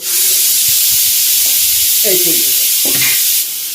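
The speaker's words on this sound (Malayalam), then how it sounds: "ആദ്യം ഉള്ളി വറുത്തത് ഇടുക പിന്നെ ബീൻസ് ക്യാരറ്റ് ഇതെല്ലാം നെയ്ക്കകത്ത്" Fried onion, beans and carrot sautéed in ghee give a loud, steady close-up sizzle with stirring scrapes throughout, and a few faint voices sit underneath.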